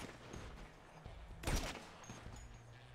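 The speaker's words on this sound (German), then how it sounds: "wir schießen jetzt alle auf den Helikopter" Sniper rifle fire at a helicopter in GTA 5 Online, heard as faint scattered shots with one sharper, louder crack in the middle against a quiet background.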